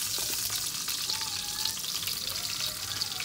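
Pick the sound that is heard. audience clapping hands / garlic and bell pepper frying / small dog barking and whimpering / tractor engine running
garlic and bell pepper frying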